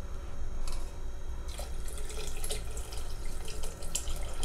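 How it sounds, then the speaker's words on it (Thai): Shiitake mushroom soaking water is poured into a black chicken and Korean ginseng soup, making a steady, close splashing stream of liquid with no one talking. "แล้วที่สำคัญน้ำเห็ดหอมนะครับใส่ลงไป"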